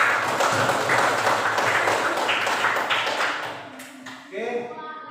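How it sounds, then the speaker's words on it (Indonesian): A class of high school students claps for the speaker, a fairly dense round of clapping with talk mixed in, thinning out toward the end as a voice speaks. "terima kasih tepuk tangan untuk saya"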